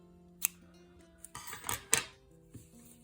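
Scissors snipping off excess thread after a hanger knot on a needle-felted robin wreath, with a few sharp close metallic snips in quick succession against a quiet background.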